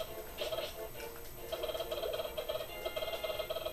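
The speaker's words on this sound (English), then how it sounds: "you can also use these chickens too" Chickens cluck and squawk in Zelda: A Link to the Past on the SNES, a quick warbling chatter that repeats in short bursts at moderate volume.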